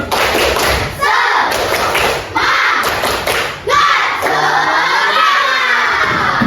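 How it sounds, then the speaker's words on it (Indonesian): A class of fifth-grade children does a rhythmic spirit clap, sharp thumping claps landing in a few quick bursts amid loud shouting and cheering voices, close and crowded in a school classroom. "Kita tepuk semangat dulu. Tepuk semangat"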